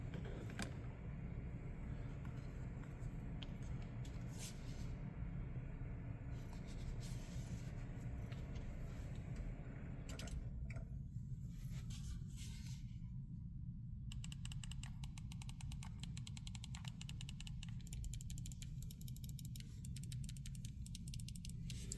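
Buttons on a wired Cyclone 2 game controller pressed repeatedly during testing; quick, crisp tactile clicks come in irregular bursts and then faster runs over a faint steady hum, close and fairly quiet.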